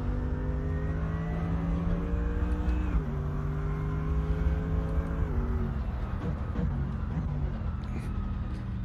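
A Bentley race car engine in the video game Assetto Corsa, droning steadily and loud, its pitch stepping down at gear shifts and rising again as it accelerates, heard throughout from inside the car.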